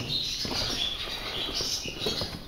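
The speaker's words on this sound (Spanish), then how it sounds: "Se oyen muchos pájaros, Miguel." A chorus of small birds chirps and tweets continuously in the background, high-pitched calls overlapping over a soft outdoor hiss.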